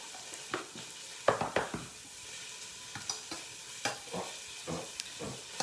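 Real butter sizzles in a stainless steel pan, a soft steady frying hiss with occasional stirring scrapes and light clinks, fairly quiet and close, with no talk.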